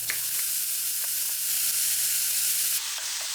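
Chicken breast, onion and green onion stir-frying in a hot pan, a steady close sizzle with light stirring scrapes, the hiss shifting slightly near the end.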